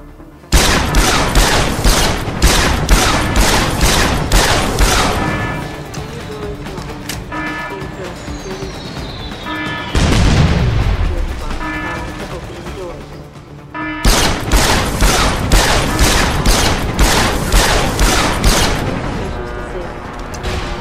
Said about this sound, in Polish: Ale wybuch, ale strzeliło, człowieku.